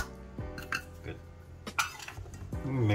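Cupcake batter being mixed in a bowl, with a utensil scraping and clinking against the bowl in irregular knocks, close and moderately loud, alongside some kitchen clatter.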